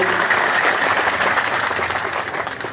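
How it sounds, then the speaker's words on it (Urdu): Loud applause from a crowd at an election campaign rally in Pakistan, a dense, sustained roar of clapping from many people, steady and close throughout. "تالی مار دو، زور سے مارو"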